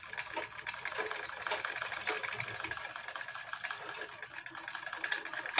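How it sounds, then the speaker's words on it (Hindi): Sewing machine stitching a collar onto a warm kurti, a continuous close whirring hum with fine rapid needle ticks, moderately quiet and steady throughout. "अब इसी तरीके से हम इधर गोल राउंड करते हुए सिलाई लगाएंगे इस तरीके से"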